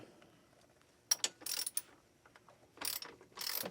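A ratchet on a long extension loosens a fastener under an MK6 Volkswagen Jetta in several short bursts of quick clicking, close and clear against a quiet background.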